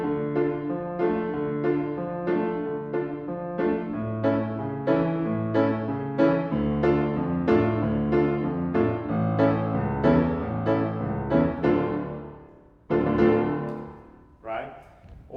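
Colombian cumbia in 2/4 with a steady rhythmic pulse and layered melodic instruments, loud and continuous, briefly breaking off near the end before a short final burst.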